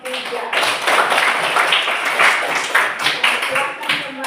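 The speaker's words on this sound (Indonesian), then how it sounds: "kita berikan tepuk tangan untuk kelompok 3." A classroom of students claps for a student group after its presentation, a loud, lively round of applause lasting about four seconds with uneven surges.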